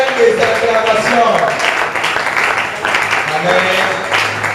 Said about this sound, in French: On acclame très fort pour le Seigneur.